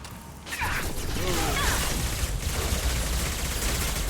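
Mass Effect 2 combat gunfire: dense bursts of shots and crashing impacts fill the whole stretch, loud and close, smeared together into a constant rattling barrage with no talk over it.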